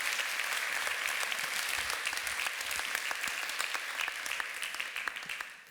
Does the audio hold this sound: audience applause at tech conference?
yes